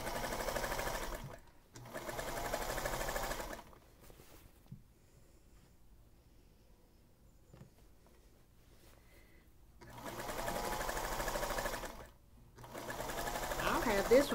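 A sewing machine stitches a quilt in bursts, a steady mechanical whirring that stops and restarts three times, with a person talking quietly in the pauses.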